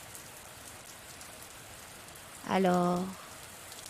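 Steady, soft rain patters and hisses evenly throughout, with a single short spoken word briefly rising over it near the end.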